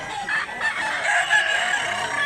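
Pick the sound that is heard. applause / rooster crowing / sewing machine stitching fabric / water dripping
rooster crowing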